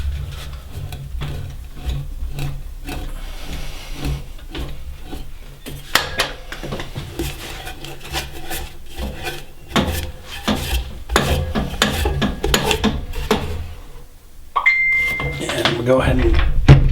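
A maple bowl blank is twisted onto a lathe's worm screw, giving scraping, rubbing wood-on-metal turns and clunks in irregular bursts, close and fairly loud, with someone talking throughout.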